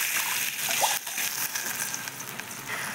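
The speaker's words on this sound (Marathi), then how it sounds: "घेऊयात टाकून पाणी।" Water poured into spicy misal gravy in a pan, a continuous close gushing splash that stays steady for a few seconds.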